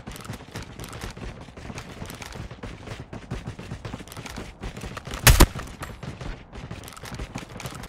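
Rapid automatic gunfire from a Call of Duty battle royale match, a steady loud stream of shots with one sharper burst near the middle and no talking over it.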